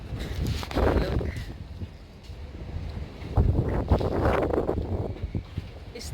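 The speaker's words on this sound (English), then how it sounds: "it's still a strong wind." Strong tropical wind after a typhoon-like night gusts and buffets the microphone in heavy, rumbling surges that rise and fall, loud and close, with a voice speaking under it.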